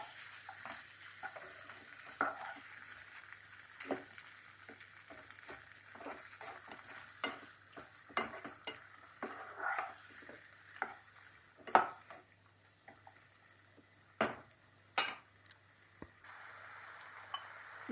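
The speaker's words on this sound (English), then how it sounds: "And we have to fry the prawn slightly." Prawns frying slightly in a kadai, with soft sizzling, faint and steady, broken by scattered clicks and stirring scrapes throughout, no voices.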